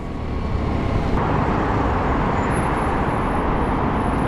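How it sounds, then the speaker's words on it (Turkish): Steady road traffic noise surrounds a rider on a 150cc motorcycle in city traffic in İzmir, a dense continuous roar of engines and tyres, fairly loud and unbroken throughout with no talk. "Girdik yine trafiğe."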